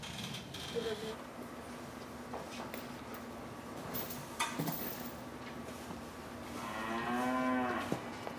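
Dairy cows on a mountain farm moo in long, low calls, one clear rising moo near the end over steady barn background noise, with a few scattered knocks and ticks.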